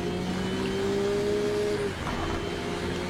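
Racing car engine in a rain-soaked video game race, a steady sustained whine held for nearly two seconds before dropping away under constant spray-like hiss.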